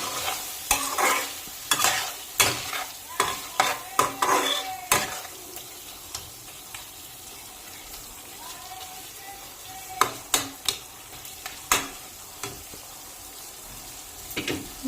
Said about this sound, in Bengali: এই যে হলুদ মাখানো মাছগুলো আমি ছেড়ে দিচ্ছি।